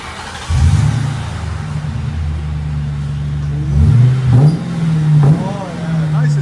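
A 2005 Ford Crown Victoria with a 4.6L engine and Flowmaster Flow FX exhaust idles with a deep, steady rumble, then blips the throttle twice in short revs near the end.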